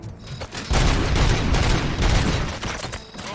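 Sustained gunfire in the RoboCop: Rogue City video game, a loud dense volley of shots and booms lasting several seconds with no pauses.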